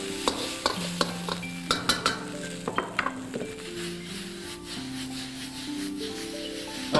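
Fried rice with shrimp, green onions and Chinese wine tossed in a wok, close and moderately loud: a steady sizzle under repeated sharp clanks and scrapes of a metal utensil, busiest early, with no talk.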